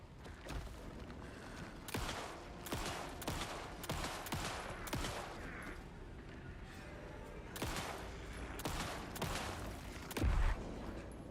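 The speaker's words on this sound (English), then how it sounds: "We'll lay into him with some pistol." Pistol shots in Alan Wake 2, a steady series of sharp single shots at irregular intervals, fairly quiet overall, with a low thud near the end.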